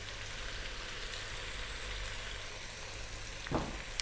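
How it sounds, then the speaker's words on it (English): Vegetables sweating in a pan for soup, a steady gentle sizzle with a soft hiss throughout, close by, and one brief stirring scrape near the end. "So we're just sweating that down a little bit."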